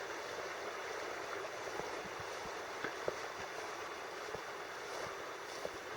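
Water in a stream runs through a dense forest on Dartmoor with a constant, even rush, broken by a few faint ticks and clicks.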